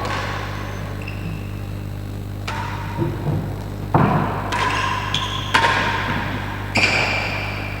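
Real tennis at a tournament quarter-final: a ball is served and struck, giving several sharp thuds and pings off racket and walls in an echoing indoor court over a steady hum, with no voices.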